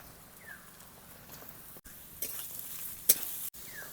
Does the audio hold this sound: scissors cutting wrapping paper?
no